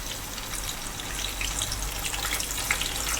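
Cinnamon and cardamom sizzle in hot oil in a pan while tomato rice is being cooked, a soft, continuous crackling fry heard alone at low volume.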